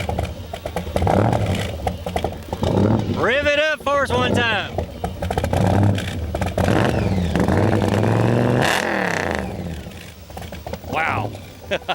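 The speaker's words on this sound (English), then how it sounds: "Rev it up for us one time." A hot rod car engine at an outdoor cruise-in car show revs up loudly, climbing and falling a couple of times close by, with people talking around it.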